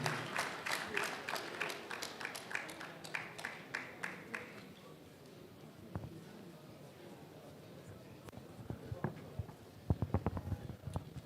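At a lecture gathering, an audience gives a brief round of applause for the lecturer's introduction: a few seconds of rhythmic clapping that fades out, followed by quieter scattered sounds and a voice.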